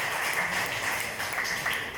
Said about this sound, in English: Big applause to Odet.